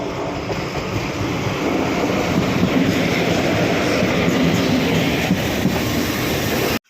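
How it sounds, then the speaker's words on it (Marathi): The Sawantwadi–Diva Express pulls into a small Konkan Railway station with no platform, a loud, steady rumble of wheels and carriages rolling past close by for several seconds, with no voices. "सावंतवाडी दिवा एक्सप्रेस अशा प्रकारे आलेली आहे"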